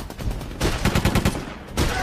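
Rapid bursts of gunfire crackle in a dubbed dinosaur action movie, clustered volleys with a final loud burst near the end, dense and close.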